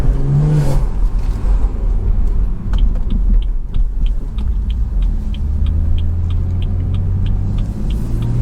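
A BMW 340i with a B58 engine is driven away from a college campus, giving a steady cabin rumble and engine drone, with a regular ticking clicking through the middle of the run.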